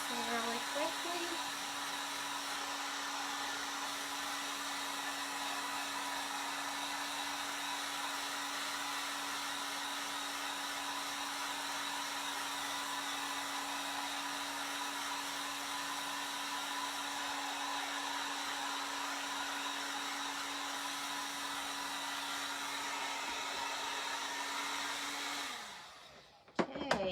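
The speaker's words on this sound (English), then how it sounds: "I'm just gonna use this heat gun and kind of dry this really quickly." A heat gun drying craft glue on a fall topiary blows a steady, close whooshing hum with a constant tone, running evenly for about 25 seconds before cutting off at the end.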